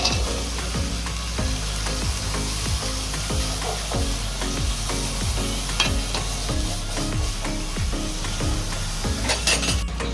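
Bottle gourd sizzling in a frying pan as a utensil stirs it, a steady loud crackle of frying with rhythmic scraping and faint clinks throughout, with no talking.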